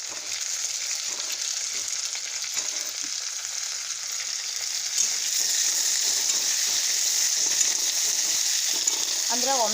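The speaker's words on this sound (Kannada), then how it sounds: "ಶುಂಠಿ ಆದ ನಂತರ ಬದ್ನೆಕಾಯಿ ಹಾಕೋತೀನಿ ರೀ. ಎಣ್ಣೆ ಒಳಗೆ ಒಂದು ಸ್ವಲ್ಪ ಹುರ್ಕೊಳ್ಳೋನು." Brinjal pieces frying in hot oil with ginger and garlic, giving a steady bright sizzle that carries through the whole stretch, with occasional soft stirring clinks and a faint voice near the end.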